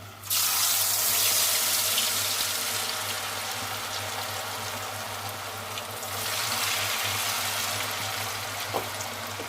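Sliced potatoes for chips drop into hot oil and set off a loud, dense, continuous sizzling hiss that starts abruptly and then holds steady with slight swells.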